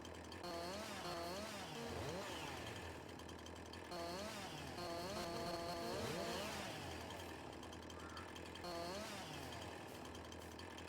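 Chainsaw cutting trees in Farming Simulator 22, a steady loud motor whine with rising and falling revving in repeated cycles over a constant engine drone.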